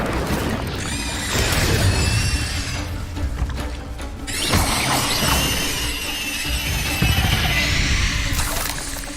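A fire spell blast cast in the Hogwarts Legacy video game during a fight with a giant spider, with loud whooshing, crackling bursts and crashing impacts that run for several seconds amid game effects, no talk.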